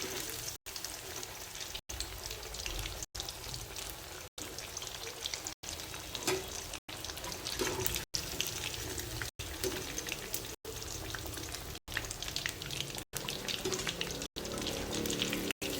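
Black pomfret fish sizzle and crackle in hot oil in a pan, a steady, loud, close frying hiss that runs continuously apart from brief regular breaks.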